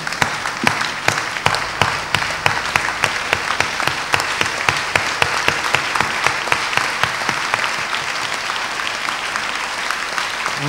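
Church congregation applauding steadily during a service, many hands clapping loudly and continuously with rhythmic sharp peaks, with no voices standing out above it.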